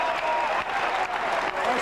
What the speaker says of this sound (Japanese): 観客が拍手するほどオットケにいいラウンドなのかなっていう気がしますね